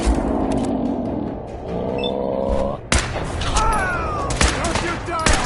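Gunfire in the video game Fallout 4: a dense burst of shots and booms through the middle, layered with game music and ambience, with a voice talking over parts of it.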